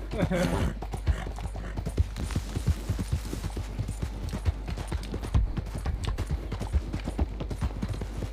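Horse hooves gallop in quick, steady rhythm across open ground in the video game Red Dead Online, a continuous run of thudding clip-clops with someone talking over them.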